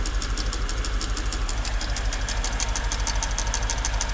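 A Mercedes S55 AMG engine running with a steady, rapid metallic knocking tapping over its low hum, heard close up and continuous.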